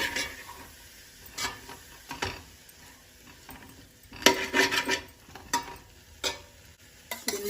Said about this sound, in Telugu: టమాటా ముక్కలు, వేసుకొని బాగా కలుపుకోవాలి.